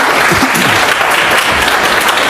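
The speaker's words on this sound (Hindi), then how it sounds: "एक बार जोरदार ताली बजा दिए" Loud, steady applause from an audience at a business training session, continuous and dense throughout with no speech over it.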